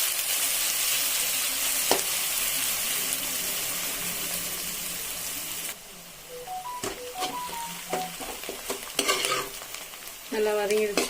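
Onions frying and being stirred in a pan after mustard seeds have popped, for a drumstick gravy: a steady loud sizzle through the first half, then quieter sizzling broken by scraping stirs and clinks of a spoon against the pan.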